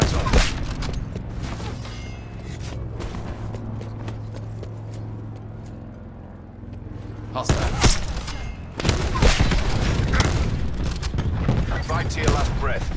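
Sniper rifle shots ring out in Black Ops 4 on the Nuketown map, a few sharp loud cracks amid busy game noise and footsteps, with a voice talking over parts of it.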